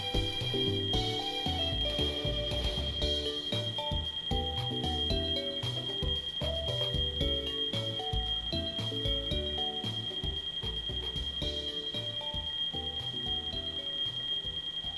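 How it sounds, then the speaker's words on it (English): A steady electronic alarm beeps continuously at a fixed high pitch, layered over busy Pokémon Infinite Fusion game music that plays throughout. "I'm very sorry for the beeping."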